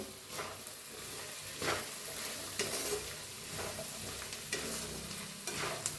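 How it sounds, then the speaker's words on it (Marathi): Sweet corn with red chilli powder, chaat masala and salt being stirred in a pan, a soft, fairly faint sizzle with intermittent scraping strokes, close and without talking. "आता थोडंसं लाल तिखट, थोडासा चाट मसाला, चवीप्रमाणे बघा मीठ टाकूया आणि याला हलवून घेऊया।"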